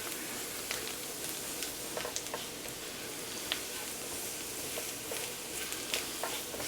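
Butter and flour sizzle gently in a pan for a chicken pot pie roux, a steady soft crackle with faint scattered pops throughout, quiet and close with no talking.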